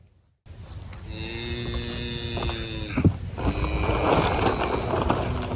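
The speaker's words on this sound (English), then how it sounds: "Many cows moo moo moo moo moo moo." Several miniature cows on a homestead moo in repeated, overlapping drawn-out calls, fairly close and loud, with steady barnyard background between them.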